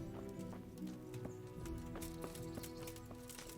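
Horse hooves clip-clopping at a steady walking rhythm in the Kingdom Come: Deliverance video game, quiet and even over a faint ambient bed.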